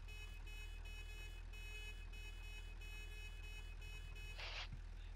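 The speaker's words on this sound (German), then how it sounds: "Hörst du das Hupen?" Vehicle horn honking in the game Satisfactory, a long steady tonal blare with stacked harmonics under a constant low engine drone, followed by a short bright burst near the end.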